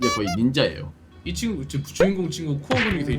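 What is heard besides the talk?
No everyday noises stand out.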